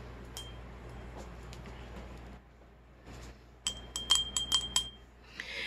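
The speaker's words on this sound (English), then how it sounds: "glass bell." Handling a clear glass bell ornament: a few soft ticks, then a rapid run of bright, ringing glass clinks and chinks close by, quiet between strikes.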